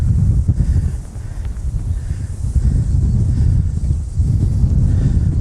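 Strong wind on Dartmoor buffets the microphone in a steady low roar, gusting throughout with no voices.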